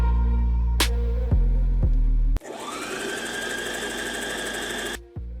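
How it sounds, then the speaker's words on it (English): Sewing machine running a straight stitch, a steady loud mechanical whir with fast regular clatter that holds for several seconds after a few short starts and stops. "nobody actually wants to listen to a sewing machine running because it's annoying"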